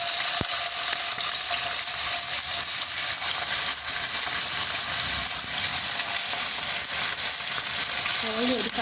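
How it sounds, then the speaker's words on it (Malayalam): Chicken pieces sizzle steadily in hot oil over a low flame for Uzbek rice, a dense continuous frying hiss with faint stirring clinks, heard alone without talk. "ഒഴിച്ച് നന്നായി ചൂടായതിനു ശേഷം അതിലേക്ക് നമുക്ക് ചിക്കൻ ഇട്ട് കൊടുക്കാവേ"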